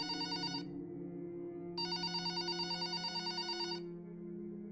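An electronic cell phone ring in the video game Hotline Miami 2 trills in two bursts separated by a pause, over a steady low hum.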